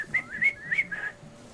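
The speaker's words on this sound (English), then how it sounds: "they do like a whistle, don't they?" A guard in the video game Assassin's Creed IV Freedom Cry whistles a short tune of several warbling, clear notes in a rising and falling pattern, moderately close, with no talking.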